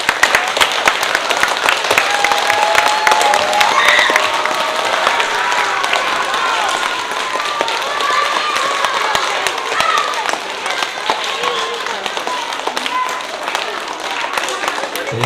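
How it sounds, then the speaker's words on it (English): An audience at a school spelling bee gives a speller a long round of applause, dense crowd clapping that holds steady at close range throughout. "Please give a round of applause to Jose"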